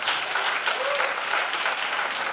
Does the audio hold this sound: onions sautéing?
no